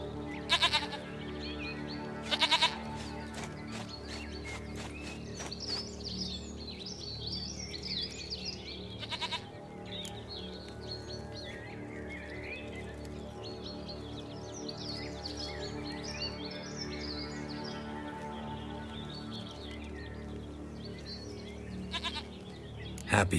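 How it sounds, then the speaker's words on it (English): Goats bleat repeatedly in the game Witcher 3, with several sharp calls over a steady tonal musical bed and faint bird calls across a long stretch. "Goat of mine, dearest, sweetest goat."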